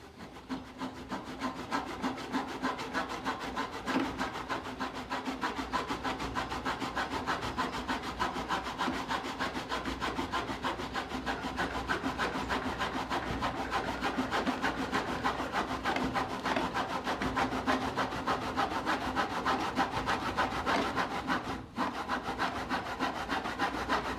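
A handsaw cuts a 45-degree miter in wood held in a jig, with steady rhythmic back-and-forth rasping strokes, close and continuous, with no talk.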